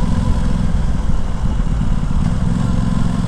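A 2021 Aprilia Tuono 660 motorcycle engine runs at a steady throttle, a continuous low throbbing drone that holds even and loud throughout without rising or falling.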